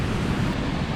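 Ocean surf washing onto an Australian beach, a steady broadband roar with no distinct breaks, loud and close with wind-like noise throughout.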